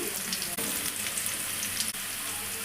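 Liver and a medium onion frying in oil in a home pan, with a dense continuous sizzle heard up close and occasional stirring scrapes and clicks.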